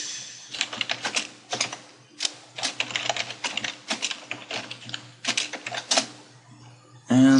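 Bursts of rapid keystrokes on a computer keyboard while Java code is typed, clustered in quick runs separated by short pauses, close and fairly loud, ending with a brief louder thump.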